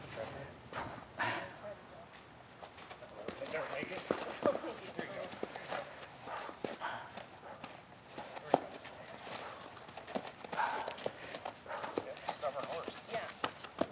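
Sadie, a horse, moves around in a pen with vinyl fencing, her hooves clopping and shuffling at a moderate distance in an irregular rhythm, with occasional thumps as she bumps into the fence and people talking over it.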